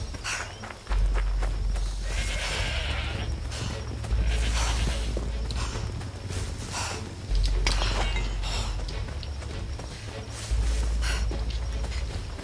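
Horse sounds from the video game Assassin's Creed Odyssey: repeated bursts of neighing and hoof clatter recur in roughly three-second waves, loud and close, with a faint game ambience underneath.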